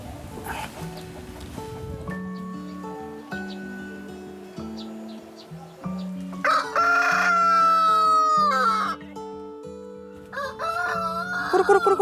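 Backyard chickens fed organic kitchen scraps crow and cluck in a busy chorus, with rhythmic harmonic calls and a louder burst of crowing in the middle, near and clear.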